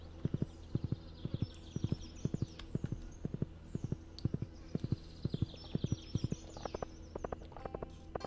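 Horse hooves clip-clop in a steady, quick walking rhythm within the video game Stardew Valley, the crisp knocks repeating evenly throughout over a soft musical background, with no talking.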